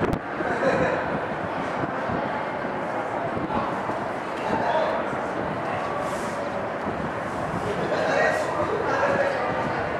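Constant rumbling wind buffeting the microphone on the observation deck of the Palace of Culture and Science in Warsaw, a dense roar with no breaks throughout.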